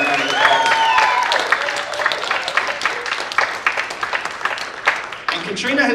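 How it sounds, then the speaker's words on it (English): A small audience at a community poetry and storytelling gathering gives another round of applause, with scattered clapping running under a speaker's voice throughout. "I really think she deserves more than one round of applause."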